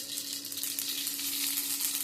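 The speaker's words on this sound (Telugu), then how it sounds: "నూనె వేడెక్కింది. ఇప్పుడు కొంచెం ఆవాలు," Mustard seeds sizzling and crackling in hot oil, a dense, steady frying hiss up close with a faint hum beneath.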